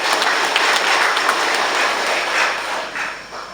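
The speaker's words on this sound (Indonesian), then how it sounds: "Mari kita tepuk tangan." Audience applause at a Golkar party gathering in North Central Timor (TTU), East Nusa Tenggara, Indonesia: dense, steady clapping from a crowd, loud and continuous before tapering slightly near the end, with no voices over it.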